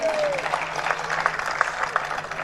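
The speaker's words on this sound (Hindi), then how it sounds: "ऐसे ही एक बहुत अच्छे से ताली बजाना चाहिए उनके लिए।" Audience members clap for a scholar at a Jain religious gathering, a short burst of scattered applause of moderate loudness, with a brief tonal sweep at the start.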